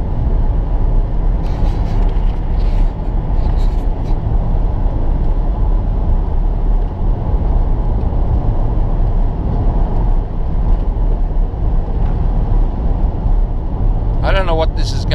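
A car cruising along a road at 100 km/h, a loud, constant broadband road and wind roar from inside the cabin, with someone speaking over it.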